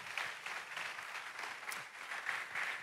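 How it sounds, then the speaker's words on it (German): A hall audience claps steadily at a Sunday Night talk event. The applause is faint and distant, an even wash of hand claps that lasts throughout with no voices standing out. "Applaus."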